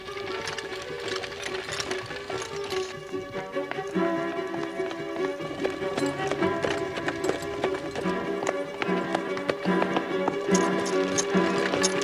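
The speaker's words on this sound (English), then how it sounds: "Stop that horse." Horse hooves clip-clopping at a quick gallop on a road, a steady rapid rhythm of hoof beats with jingling tack, moderately loud and continuous with no voices over it.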